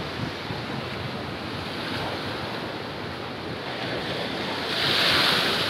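Steady rushing waves and wind roar around a boat on rough open sea off Krui, Pesisir Barat, Lampung, continuous and loud, swelling briefly near the end, with no voices.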